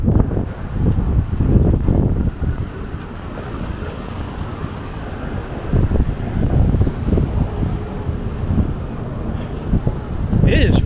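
Strong gusty wind on a Brooklyn street buffets the microphone in a continuous low roar that rises and falls throughout.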